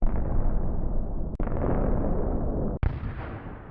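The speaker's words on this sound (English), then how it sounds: "let's adjust our search for a distant explosion" Deep, rumbling explosion booms, loud and muffled like they come from far off, three in a row with abrupt cuts between them.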